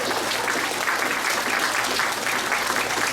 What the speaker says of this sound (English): let's give a round of applause to all of our talent today.